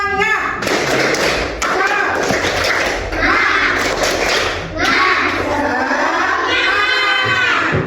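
Children in a classroom perform a rhythmic 'tepuk semangat' clap chant, their patterned clapping and thumps mixed with loud shouted chanting and cheering from the group throughout.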